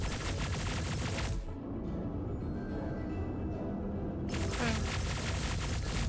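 A ship in Star Citizen keeps up fire at the ground beside a landed ship, harsh static-like bursts of gunfire that cut out briefly mid-clip then resume loud and sustained.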